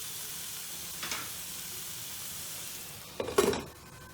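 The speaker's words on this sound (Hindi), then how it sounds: "इसको अभी हम ढक के 2-3 मिनट पकाएंगे ताकि मसाले अच्छे से फ्राई हो जाए" Spices and tomatoes for a potato, fenugreek and pea curry fry under a lid, giving a faint, steady sizzle with a brief clatter near the start and a louder clink of the lid or utensil toward the end.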